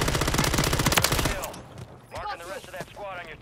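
Rapid automatic gunfire from the Call of Duty video game fills the first second and a half as a loud, dense burst, then gives way to voices talking over quieter game sounds.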